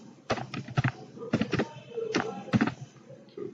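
Keystrokes on a computer keyboard during an HTML coding tutorial, a few quick clustered taps in bursts with short pauses, close and moderately loud, no talking.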